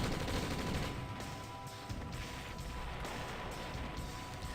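Artillery fire in the real-time strategy game OpenRA, heard as a dense, noisy rumble of distant booms and crashing impacts with a few sharper hits standing out from the steady din.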